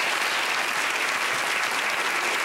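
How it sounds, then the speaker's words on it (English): Dense, loud studio audience applause at a televised town hall event, a continuous roar of many hands clapping close and full throughout. "We should give applause to Christiane."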